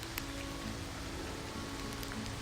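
Rain falls steadily as a soft, continuous hiss and patter, faint and even throughout, with a low background hum beneath it.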